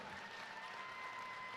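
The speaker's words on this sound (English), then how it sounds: "Let's give them a round of applause, everybody." Audience applause at a Brave the Shave head-shaving charity event, a steady wash of clapping hands held at an even level throughout, with no voices standing out.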